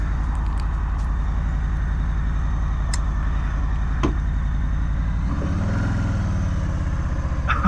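A 2020 Harley-Davidson Low Rider S engine thumps at a steady close idle with a few faint clicks, then opens up into a deeper rising rumble as it pulls away on a test ride.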